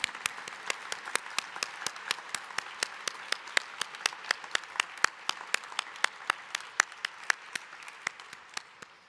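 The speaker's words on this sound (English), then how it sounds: "I would like us to have our first round of applause for this evening for all of our nominees." An audience at an evening volunteering awards ceremony in the Canberra region applauds its award nominees, with steady, dense clapping from many hands that carries on throughout and stays fairly even in loudness.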